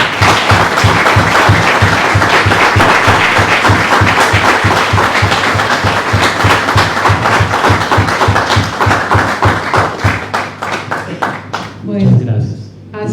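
A conversation event with a writer ends in a dense, sustained audience applause with steady rhythmic clapping that thins out and fades at the end.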